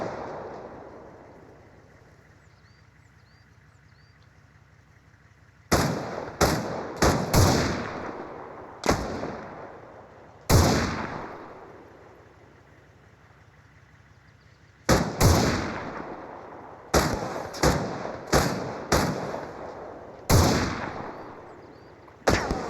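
Enemy gunfire rings out in a video game firefight, sharp loud shots arriving in scattered bursts and quick clusters after a quiet opening, each crack trailing a short echo, with no talking.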